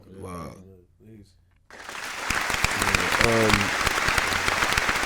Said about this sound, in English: Round of applause, please, for the wife.